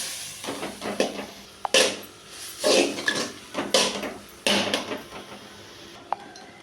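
Cooked dal being stirred into manathakkali greens kootu in a pot, with several distinct scraping and clattering strokes of a spoon against the vessel, close and fairly loud, with short pauses between them and no voices.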